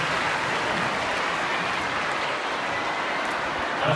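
Dense, steady audience applause for the band at a school event, loud and continuous clapping from a large crowd throughout.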